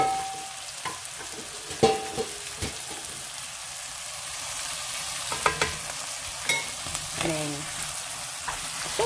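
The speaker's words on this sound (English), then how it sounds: "and then the eggs that I whisked earlier and very quickly chuck in all my rice as well" Egg fried rice sizzling in a pan with whisked eggs, a steady close frying hiss broken by scraping stirs and clinks of a utensil, with no talking.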